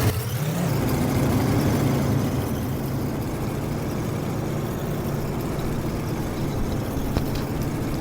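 A rock crawler vehicle drives in Dreams in two-wheel drive, its mid-pitched engine droning steadily and loudly throughout with slight rises and falls in revs, no voices over it.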